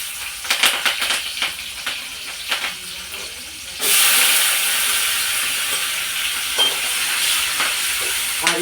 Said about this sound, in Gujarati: આ રીતના ટમેટા અને મરચાંને સતળાઈ જાય તે રીતના આપણે તેલમાં કરી લઈશું.